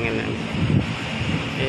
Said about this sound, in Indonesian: Kemudian di sampingnya lagi wah, kena angin kawan-kawan.